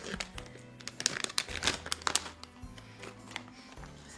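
A new aperitif snack packet with a peanut smell is torn open, its plastic wrapper crinkling and crackling in irregular bursts, close and clear against a low background hum.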